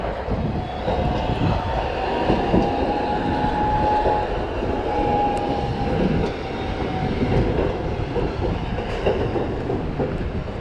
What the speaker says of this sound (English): Sapporo tram.